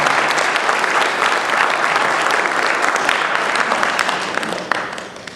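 A round of applause at a high school Hall of Fame induction ceremony, a loud dense wash of clapping from a large audience that holds steady and then tapers off near the end.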